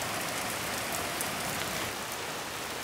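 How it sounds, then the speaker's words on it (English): Steady rain falls outside on a truck topper, a dense, even hiss of drops with no pauses and no voices. "So I'm gonna let this sit out in the rain for several hours and see if we can find any leaks."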